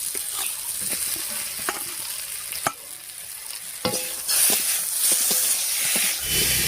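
Fried eggplant being stirred into potatoes frying in a pan, with a steady loud sizzle and hiss broken by sharp clacks and scrapes of the spoon against the pan.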